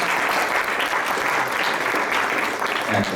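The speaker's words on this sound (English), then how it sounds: "Give her a round of applause." Applause from the audience at a membership meeting, a dense, steady wash of many hands clapping together at close range, sustained and even throughout.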